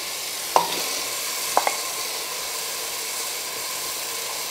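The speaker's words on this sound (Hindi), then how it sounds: "और गोश्त डाल के हम भूनेंगे।" Mutton added to a pot with partly cooked onion and tomato sizzles with a steady frying hiss, broken by a few sharp utensil clinks against the pot.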